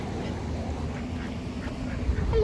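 Ducks quack faintly in the distance on a walk break outdoors, a couple of brief calls over steady background noise.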